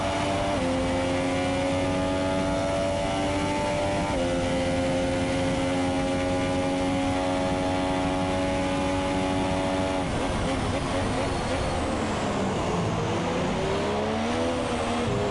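Formula 1 racing cars in a video game at Abu Dhabi scream past, engine pitch rising through the gears and dropping for a hairpin and chicane, loud and continuous under steady race commentary.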